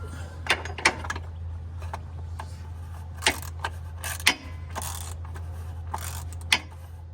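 A wrench ratchets on the oil filter housing of a Porsche Boxster S, giving scattered short metallic clicks over a steady low engine-bay hum, close and moderately loud.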